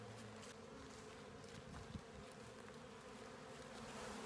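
A swarming honey bee colony hums in a thick, continuous drone of many wings, close and steady, with individual bees buzzing past now and then and no talk.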